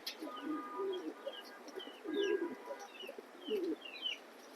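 Large racing pigeons, red checker pairs, coo in repeated low rolling bursts about every second or two, fairly close, with faint chirps from other birds in the background.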